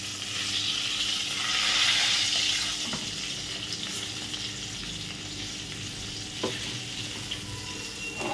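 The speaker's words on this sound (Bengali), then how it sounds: "মাছটাকে চাপা দিয়ে দিয়ে ভাজছি" Fish frying in a pan with very little oil, pressed down as it cooks, gives a steady close sizzle with soft scraping and stirring sounds, briefly louder near the start and otherwise even throughout.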